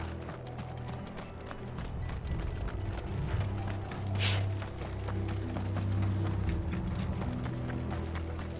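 Rhythmic hoofbeats of several horses clatter along at a brisk pace in the video game Final Fantasy XVI, with a brief whinny-like squeal midway and a low rumbling bed beneath.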